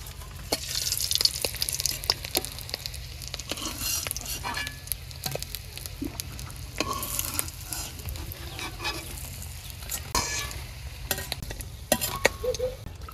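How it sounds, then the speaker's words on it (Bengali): Eggs fry in a pan while a spatula stirs and scrapes them, a steady close sizzle broken by frequent clicks and scraping strokes, with no talk over it. "ডিম সব ভাজা হয়ে গেছে, এখন উল্টেই নেই।"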